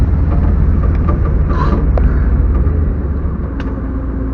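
A 1965 Ford Thunderbird Landau, sitting unused for over 15 years and running with a carburetor in need of adjustment, drives on the road with a steady, loud rumbling engine drone and road noise throughout.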